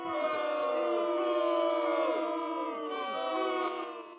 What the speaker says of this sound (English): That's enough booing.